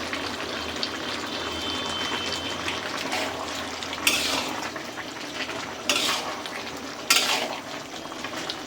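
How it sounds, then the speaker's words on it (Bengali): Chicken and young bottle gourd curry stirred in a pot after water and garam masala go in, a constant wet bubbling simmer with a few louder scraping stirs of the spoon near the end. "ভালো করে নেড়ে ছেড়ে মিশিয়ে নেব"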